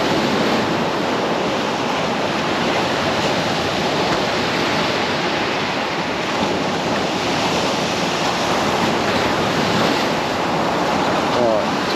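Sea waves crash against a groyne on the coast near Eastbourne and splash back over the top, making a loud, continuous roaring surf mixed with wind buffeting on the microphone.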